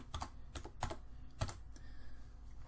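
Quick bursts of typing on a computer keyboard, close and fairly quiet, with a few louder keystrokes standing out over a light room hum.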